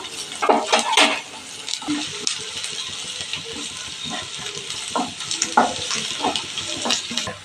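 Ginger garlic paste dropped into a pan of browned onions for mushroom gravy, giving a steady soft sizzle with clinks of a metal spoon against the pan and a few sharp scraping taps, close and alone with no talk.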